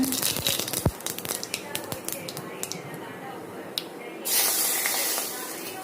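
Mustard seeds dropped into hot oil crackle and pop in rapid, scattered bursts over a steady sizzle, close and fairly loud, rising into a denser hiss near the end.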